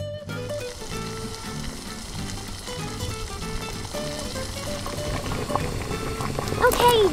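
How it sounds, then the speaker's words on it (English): Water boiling in a miniature cooking setup with snails and lemon leaves, a steady bubbling and sizzling that stays close and grows slightly louder toward the end, with no talk over it. "Let's boil them."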